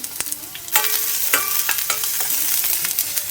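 Onion with green chillies fries in oil over high heat while making coconut Manchurian balls, a loud close sizzle punctuated by repeated metallic spatula taps and scrapes as it is stirred.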